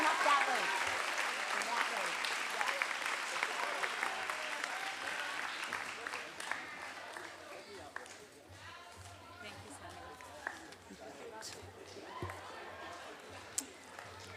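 Audience applause at a school awards ceremony as children leave the stage, a steady dense clapping that thins and fades over the second half, with a low hum and scattered noises beneath.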